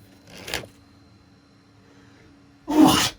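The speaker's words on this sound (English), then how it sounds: "Sneezed." A person sneezes twice, the first a soft muffled one and the second a louder, sharper burst, with quiet room noise between them.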